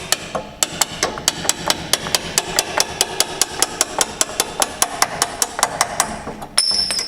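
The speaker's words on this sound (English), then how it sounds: "And now I'm going to keep hammering." A steady series of sharp metallic hammer strikes on a rusted car camber bolt, roughly three or four per second, ringing loud and close against a low engine-like hum.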